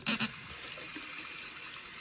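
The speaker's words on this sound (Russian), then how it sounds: "я открываю воду" Water running from a household tap, a steady close hiss that starts abruptly and continues evenly, with a slight splash as it begins.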